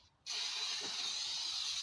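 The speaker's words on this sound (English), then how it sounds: "You take cooking spray. I use Pam. And you spray the sides" A steady, close hiss of Pam cooking spray, sprayed onto the sides of a crock pot, starts abruptly and continues without pause.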